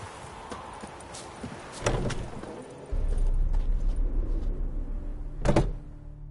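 Hooves of Roach, a horse in The Witcher 3, clopping sparsely before a louder rumbling stretch with a sharp clatter near the end.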